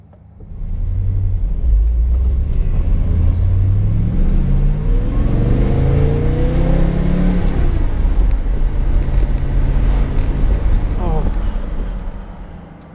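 An ISO Grifo engine drones steadily while the car is driven, a loud continuous rumble that rises and falls with revs, with wind buffeting throughout and a brief voice near the end.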